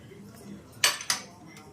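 Boiled green chillies going into a mixer jar, heard as two quick metallic clinks close together against a quiet room background.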